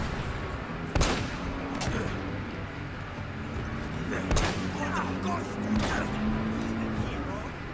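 Sniper rifle shots crack in Uncharted: Drake's Fortune. Four sharp, spaced reports ring out over a steady hum of background game sound, with a voice talking at times.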